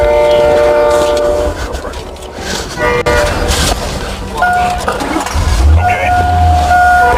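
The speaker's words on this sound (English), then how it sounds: "I hear a train coming." Train approaching along a railway where a police patrol car is stuck on the tracks, with a horn sounding in sustained tones over rumbling noise, loud and close, while people talk excitedly.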